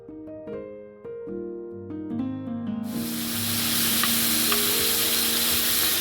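Morola fish coated in turmeric and salt dropped into hot oil for Bengali-style frying, a loud, close hissing sizzle that bursts in after an opening of music and then holds steady.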